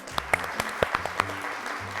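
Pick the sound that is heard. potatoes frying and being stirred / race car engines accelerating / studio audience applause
studio audience applause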